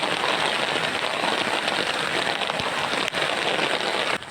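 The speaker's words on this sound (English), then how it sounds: "this is the same rain we have been waiting for, praying for some time now" Heavy rain pours in a dense, steady hiss with no pauses, with a couple of brief clicks near the end of the burst.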